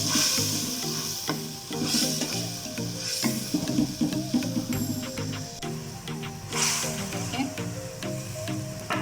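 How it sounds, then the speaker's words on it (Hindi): Onion paste fries in a pan for butter chicken, sizzling continuously while a spoon stirs and scrapes in uneven bursts, up close over a steady tonal background. "डालने के बाद हम इसको अच्छे से भून देंगे"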